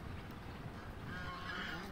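Domestic geese honk at a farmyard, a mother goose guarding her goslings, with steady calls over a continuous noisy background for the short stretch, no speech.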